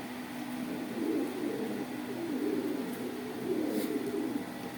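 A male domestic pigeon, kept among local and Pakistani breeds at a home loft, coos in low rolling phrases, close and steady over a constant background hum, with no speech.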